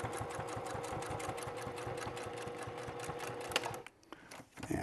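A sewing machine stitches cork fabric for a wallet in a fast, steady mechanical rhythm, loud and close, then stops abruptly near the end.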